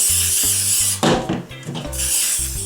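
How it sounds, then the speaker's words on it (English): A brief hiss of cooking spray oil into a cake pan bursts out for about a second over steady background music, close and fairly loud. "So we're just going to give that a quick grease of cooking spray oil."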